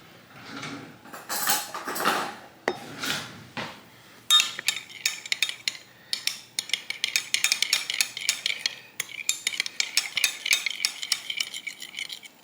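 Chicken teriyaki is stirred in a pan, first with a few slow scraping sweeps, then with quick repeated scrapes and clacks of the utensil against the pan, close and without talk.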